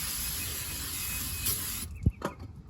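Cleaner sprays in a steady, close hiss onto a 2007 Toyota Camry rear brake rotor during a rotor and pad change, stopping near the end before a couple of short knocks.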